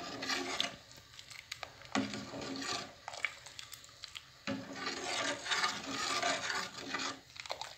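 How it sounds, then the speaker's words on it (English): Date molasses being stirred in a pot as it cooks down, a steady rasping, scraping rub of the spoon against the pan that repeats in close, fairly loud strokes with brief pauses between them. "give it a minute of stirring."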